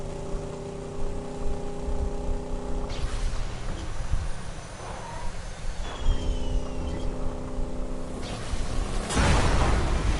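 A Borderlands 2 car engine hums with a steady tonal drone that drops away and returns, shifting pitch as it revs, then swells into a louder rough burst near the end.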